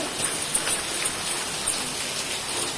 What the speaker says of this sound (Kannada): ಮಳಿ ನೋಡ್ರಿ ಫುಲ್ ಜೋರ್ ಐತಿ